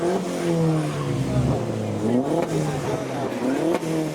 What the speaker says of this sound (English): Oh, someone's doing a proper burnout.